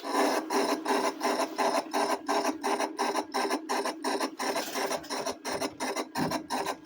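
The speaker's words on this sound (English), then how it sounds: "Now let's turn on the utility sharpener." A utility sharpener grinding rusty scissors: a rapid, evenly pulsing grinding rasp repeats about twice a second, metal scraping against an abrasive wheel, close and steady throughout.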